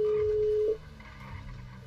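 A phone ringing unanswered in GTA 5 roleplay, one steady electronic ring tone close up that cuts off after under a second, leaving faint background hum.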